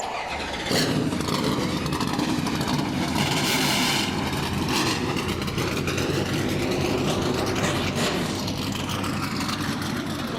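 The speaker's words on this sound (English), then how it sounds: "Drivers, start your engines." Several powerful NASCAR race car engines fire up almost together, then roar continuously and loudly, a dense rumbling wall of motor noise with no voices.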